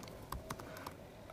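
Typing on a computer keyboard comes through as a few faint, sparse key clicks in a quiet room.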